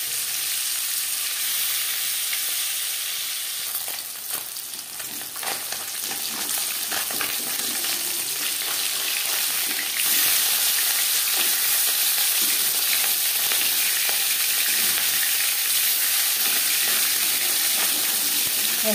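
Marinated fish fries in hot refined oil, giving a steady close sizzle and crackling hiss that runs continuously and grows a little louder partway through.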